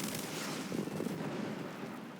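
Rockets launch from a Strikemaster Mk.88 jet during a ground-attack dive in a flight combat game, a dense burst of crackling, whooshing fire over a constant engine roar, fairly faint overall.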